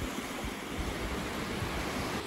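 Waves wash onto a beach on Prince Edward Island in a steady, broad rush of surf, close and fairly loud, with wind buffeting the microphone and no voices.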